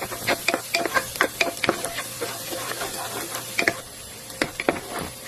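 Onion and garlic sautéing in a pan for creamy macaroni soup, a steady sizzle broken by rapid, repeated scrapes and taps of a spoon being stirred through the pan.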